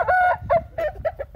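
A golden Indian game rooster gives a short burst of close, loud clucks and a brief crowing call, several quick choppy notes in about a second and a half.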